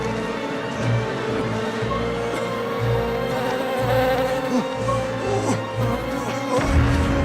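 Bees swarm and buzz around a beehive in a scene from The Wicker Man (2006), a dense, steady droning hum that carries on for several seconds with no talk over it.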